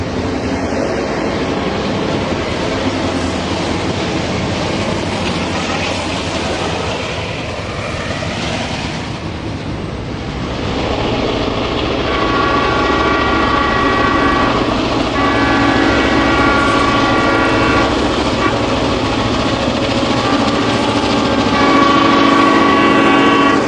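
Heavy Southern Pacific diesel locomotives haul a cut of ice refrigerator cars past in the snow on Donner Pass, rumbling loudly and continuously, with a sustained horn sounding in the latter half over the grinding of rolling freight cars.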